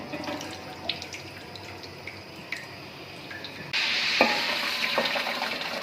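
Oil is added to a kadhai of fried chicken, and a louder burst of frying and crackling sizzle starts partway through and holds steadily after some quieter dripping and clinks.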